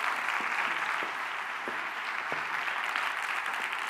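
An audience at a women's forum session applauds a United Nations committee member on a panel, a full, steady round of clapping with a few sharper individual claps standing out, lasting several seconds.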